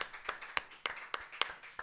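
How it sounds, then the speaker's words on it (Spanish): A few sparse claps ring out at an uneven rhythm, close and fairly dry, more like a small handful of people or one person clapping than a full crowd. "Ey, un aplauso."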